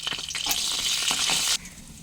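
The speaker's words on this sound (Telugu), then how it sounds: "ఇప్పుడు పోపు వేసేస్తున్నామండి పోపు సామాన్లు వేసేస్తున్నాం" Tempering spices (dried red chilies, green chilies, chana dal, mustard seeds, urad dal and cumin) hit hot oil in a close, bright sizzling burst lasting about a second before it abruptly quiets.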